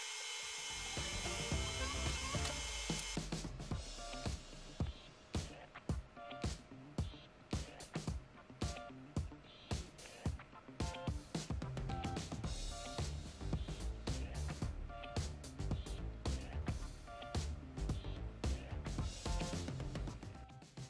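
A Sculpfun S9 laser engraver cuts poplar plywood: a soft motor whir gives way to rapid, regular clicking and ticking strokes as the head moves back and forth, close and moderately loud, with no talking.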